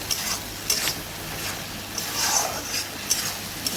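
Fish curry being stirred and sautéed in a pan, with soft, repeated scrapes and clinks of a spoon against the metal over a low sizzle, close and without speech.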